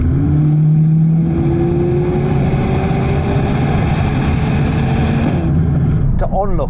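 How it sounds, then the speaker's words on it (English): Mercedes-AMG A45 S performance car exhaust droning steadily and loud under acceleration, a rising engine tone holding throughout before a brief change near the end. "for a performance car, the exhaust note is not great."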